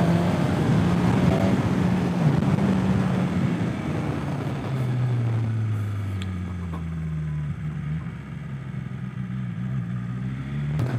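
A BMW engine drones and winds down during a U-turn on a road in Thailand, with a few faint crackles from the exhaust partway through as the revs fall.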